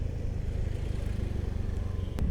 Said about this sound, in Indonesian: kedengeran gak ya suara knalpotnya?